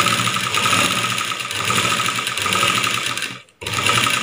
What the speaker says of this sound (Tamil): வச்சுட்டு தையல் போட்டுட்டு வரலாம்